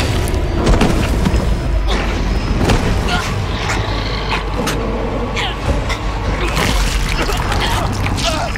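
Gunshots and heavy booms from the video game The Quarry, a loud dense low rumble with several sharp blasts spread through it, over a busy game soundscape.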